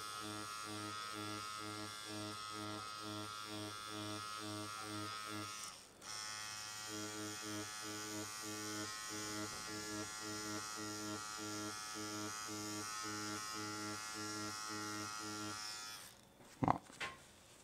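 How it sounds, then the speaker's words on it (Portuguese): A tattoo machine needle buzzing steadily while shading, a close, continuous electric drone that stops briefly midway and resumes, ending with a short sharp knock. "Tô usando só o cantinho da agulha aqui agora para dar mais uma uma pigmentadinha um pouco mais forte."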